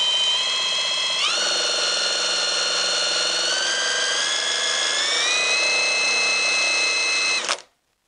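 An old-school car generator is hand-cranked for a voltage test, giving a steady mechanical whine that steps up in pitch as the cranking speeds up, then cuts off abruptly near the end.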